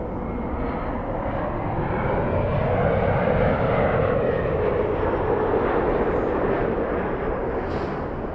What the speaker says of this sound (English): Delta 311, flying to Kona.